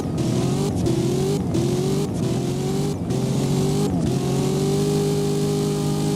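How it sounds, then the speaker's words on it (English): Cadillac Escalade V SUV in the Driving Empire game accelerating hard through repeated gear shifts, each rising engine whine cut by a brief break at the shift, loud and close with no voices. "Let's go ahead and accelerate now."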